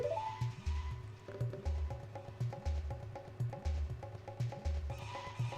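A horse in the game The Legend of Zelda: Majora's Mask gives a few whinnies over a rhythmic, looping game music track with repeated beats, no one talking.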